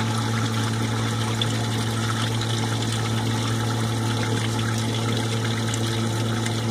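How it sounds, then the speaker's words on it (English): A greywater system pump runs steadily, pushing grey water out through a purple pipe to landscape irrigation, giving a constant low hum with faint watery trickle throughout, close and unbroken. "After 35 seconds, the pump will kick on, and that pushes the gray water right out the purple pipe out to your landscaper."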